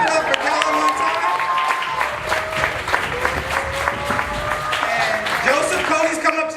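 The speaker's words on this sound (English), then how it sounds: "Clap it up for Callum one time." Audience applause at a poetry slam, with sustained clapping and some cheering from a room of listeners, moderately loud and steady throughout as voices call out over it.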